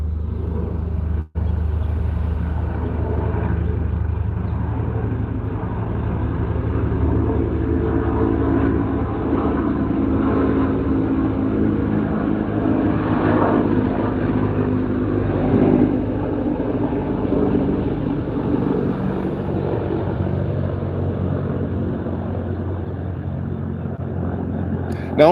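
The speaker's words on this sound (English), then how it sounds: "you can hear them military helicopters from I don't know how far." Low, rumbling drone of helicopters in the distance, steady throughout with a muffled throbbing, faint speech occasionally underneath.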